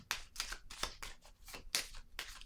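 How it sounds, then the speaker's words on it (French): Tarot cards being laid down one atop another, a series of crisp papery slaps and slides repeating at close range with no voice present. "Je vais déposer une autre carte ici, sur la carte de la relation."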